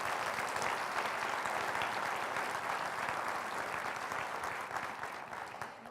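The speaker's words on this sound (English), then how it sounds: "Give a nice round of applause to our host this evening." An audience at a county State of the County address applauds steadily and loudly for the evening's host, a dense wash of clapping that tapers slightly toward the end.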